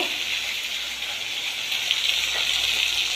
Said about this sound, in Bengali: দেখো এখানে আমি রুই মাছগুলো ভেজে নিচ্ছি